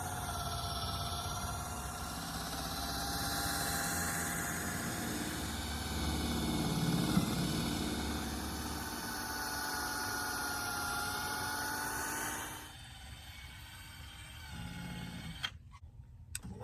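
Polishing pad spinning against a car headlight with a Meguiar's heavy-duty headlight restoration kit, a steady whirring hum for about twelve seconds that then falls away, leaving faint ticking and handling noise.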